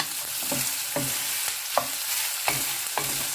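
Pork browns in a hot pan for adobong takway, a steady sizzle broken by rhythmic scrapes and clacks of stirring about every half second, close and without speech.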